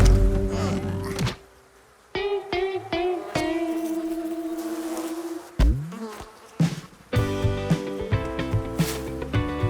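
Buzzing of baby flies in an animated children's cartoon, with tonal buzzes sustaining through the scene, broken by thunks and musical hits, loud and close with no talk.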